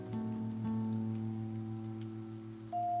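Steady rain falling in the pixel-art game Impostor Factory near an overflowing fountain outside a house, a continuous even hiss beneath sustained soft musical tones, with no voices.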